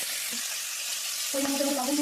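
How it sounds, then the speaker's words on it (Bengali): Cauliflower, peas, cashews and raisins frying in a pan for vegetarian fried rice, a continuous loud sizzle close up, with a brief scrape near the end. "লাল করে ভেজে নাও।"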